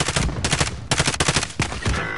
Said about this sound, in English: I'm shooting at him.